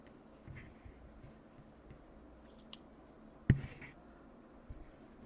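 Scissors snip through a bundle of yarn strands for a crochet blanket, giving one faint click followed by a single crisp, close cut, with a few soft handling rustles afterward.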